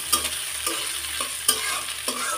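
Onion with red and green chilies and black cumin frying in oil, a steady close sizzle with a stirring scrape roughly every half second, no voices.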